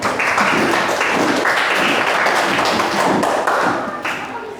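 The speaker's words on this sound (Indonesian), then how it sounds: "Tepuk tangan dulu buat Fitri" Classroom applause for a student, a loud close burst of many hands clapping with thumps and taps, steady for several seconds before trailing off.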